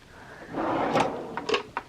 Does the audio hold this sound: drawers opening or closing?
yes